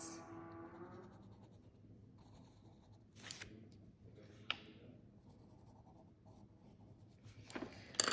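A pencil scratches lines onto paper in soft, close strokes, with a few sharper brushes and taps scattered through a quiet room.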